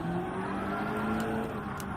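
Race car engine from Gran Turismo 7 gameplay, a loud, steady drone holding at high revs with no pauses, the tone wavering slightly as the car is driven hard.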